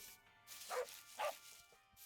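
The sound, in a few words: dog barking in Minecraft video game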